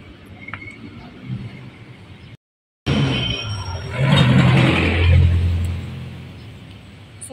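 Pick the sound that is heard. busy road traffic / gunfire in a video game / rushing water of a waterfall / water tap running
busy road traffic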